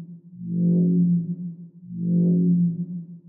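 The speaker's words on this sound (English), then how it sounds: "this is a long kind of evolving sound" Two long dubstep synth bass notes made in Serum swell and fade in turn, each with a slowly opening, evolving tone, playing alone.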